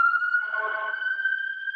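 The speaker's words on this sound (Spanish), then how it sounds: "Disculpen que justo está pasando una ambulancia." An ambulance siren holds one steady tone for nearly two seconds, clear and fairly loud, with faint background noise and no speech.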